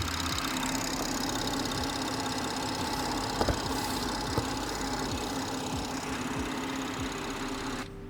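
A BMW B58 engine idles steadily while warming up, a close, continuous low mechanical hum and rumble with a couple of faint clicks partway through and no talking.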